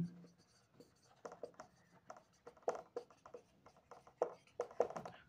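A pen scratches across paper in short, irregular strokes as math working for a partnership business problem is written out, the marks close and quiet with small pauses between bursts.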